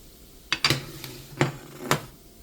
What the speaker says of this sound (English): Gotta be careful, there's a lot of hot grease. I'm gonna take it out of the pan.